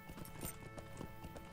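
Horse galloping in the video game Lord of the Rings Online, a quick rhythmic run of hoof clip-clops at moderate volume, fairly close, with no speech.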